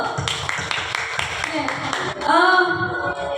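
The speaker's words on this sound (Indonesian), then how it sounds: "kita beri aplaus dulu" An audience at an Indonesian teachers' dissemination session gives a short burst of scattered hand clapping while a voice talks over it.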